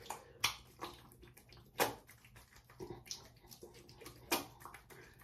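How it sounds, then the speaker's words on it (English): Face being washed with lukewarm water, soft splashes and wet hand slaps in a few irregular bursts, close and fairly quiet, with no talking. "wash your face with lukewarm water, not hot water, lukewarm water"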